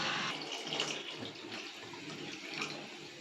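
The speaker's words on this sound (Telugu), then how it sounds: "వాటర్ కొంచెం ఎక్కువే పోసుకోవాలి." Water pours steadily from a tap or jug over cut potato pieces in a pot while making curry, a continuous broadband splashing and gurgling that fills the whole stretch with no talking.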